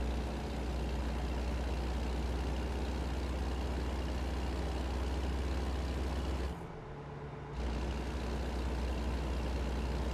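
Heavy truck engine drones steadily at highway speed in American Truck Simulator on Highway 44, a loud low rumble broken by a brief drop about a second long before the drone resumes.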